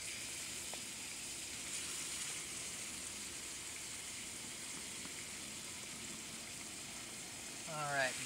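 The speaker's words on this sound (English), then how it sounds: "our oil is heated up, so we're going to put our ground beef" Ground beef sizzles steadily in hot oil in a pan at a camping cookout, a constant crackling hiss all the way through that swells briefly near the end.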